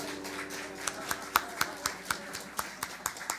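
A church congregation applauding, a run of sharp hand claps over a low hum, fairly faint, with claps spaced irregularly across the moment.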